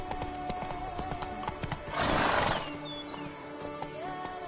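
Hooves of Roach, a horse in a video game, clip-clop at a steady gallop, with a brief whinny and a burst of noisy rustle partway through, heard without talk.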